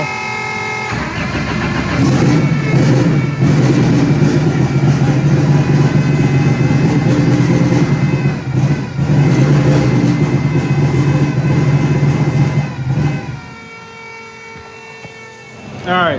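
A race car engine prepped for a mountain race, revving loud and steady close by for about twelve seconds with rising harmonic sweeps, then dropping abruptly to a low idle before a brief final blip.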